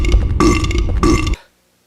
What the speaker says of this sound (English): every time you hit them, they burp